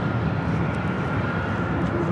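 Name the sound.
Southwest Airlines Boeing 737-700 jet taking off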